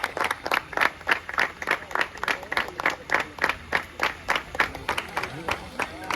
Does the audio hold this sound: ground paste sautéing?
no